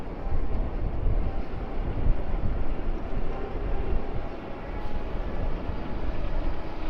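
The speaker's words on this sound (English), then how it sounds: "Dang, it's windy back here." Strong wind buffets the microphone of a cyclist riding on a city street, a loud, continuous low roar and rumble that fluctuates but never lets up.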